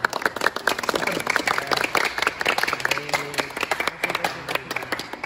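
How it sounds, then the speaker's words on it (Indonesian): Students in a classroom applaud a presenting group after a practical religious-studies lesson, a moderate patter of many hands with distinct individual claps standing out, fairly close and unbroken by speech. "Tepuk tangan untuk kelompok satu"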